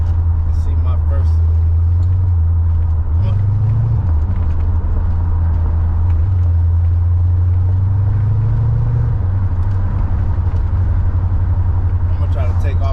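Car on new rims pulling away hard from a traffic light: a loud, steady low engine roar fills the whole stretch, with rising and falling pitch as it revs, heard from inside the car with a voice talking over it.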